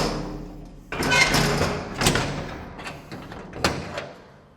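The doors of an enclosed dumper bucket, built like a semi truck door, swing shut with a series of metallic thuds and clanks, the loudest near the start and a sharp knock later, fairly close.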